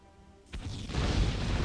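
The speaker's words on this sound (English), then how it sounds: "watch how much damage the cluster grenade does to this" A cluster grenade detonates in Star Wars Galaxies, a sudden booming blast that swells into a sustained rumbling roar of layered explosions, loud and close, with no voices.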